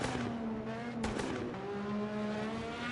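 An Indycar in a sim racing game sings past with a high engine whine and crackles of backfire, including one sharp pop in the middle, against steady engine drone.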